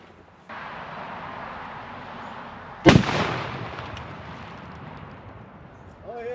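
A homemade plastic PETN test charge mixed with oil detonates outdoors in a single sharp, loud blast, its boom rolling off and fading over several seconds against steady background noise.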